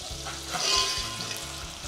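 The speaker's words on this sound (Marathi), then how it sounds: "आता इथं आपला कांदा परतून होत आलाय" Chopped onion with a pinch of salt sizzling in a hot pan alongside garlic, a soft continuous frying hiss with gentle stirring scrapes and low thumps, close and quiet, with no talking.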